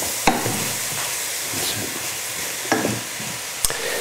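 Mushrooms fry over medium heat in a pan, a steady soft sizzle broken by a few sharp scrapes and clacks as they are stirred and moved around.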